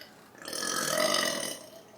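A single loud, drawn-out burp from a person, rising and fading over about a second and a half with no talking.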